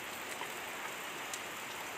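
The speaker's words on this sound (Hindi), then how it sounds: "बाहर बारिश हो रही है बहुत ज़्यादा" Heavy monsoon rain falling outside a village home, a steady, dense broadband hiss with no talk and no breaks.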